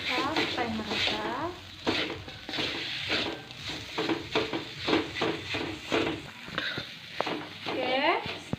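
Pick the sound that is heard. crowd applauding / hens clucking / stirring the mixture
stirring the mixture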